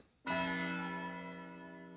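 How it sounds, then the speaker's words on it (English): A single bell in the video game Pathologic strikes once and rings out clearly, a rich sustained tone slowly fading, heard alone. "The bell calls again."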